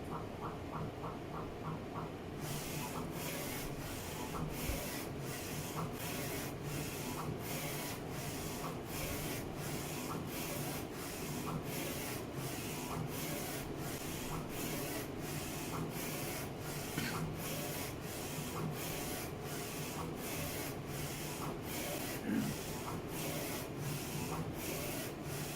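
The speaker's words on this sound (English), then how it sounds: "And printer will start printing." A Focus Inc. Alpha-Jet UV flatbed printer printing a single color, a steady rhythmic series of evenly spaced mechanical passes and clicks from the moving print head, continuous and fairly close, with no talking.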